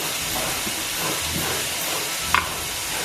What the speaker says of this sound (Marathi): तर आता आपण मिरच्या टाकूया तर त्यांना यांना थोडं भाजून घ्यायला लागेल थोडंसं आपल्याला तेल टाकून